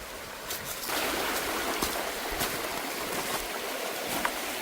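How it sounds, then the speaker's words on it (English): A small creek runs steadily near a washed-out railroad trestle after a hurricane, its broadband rush swelling up close after a quiet start, with a few soft footsteps and knocks on top. "this little creek is so chill right now"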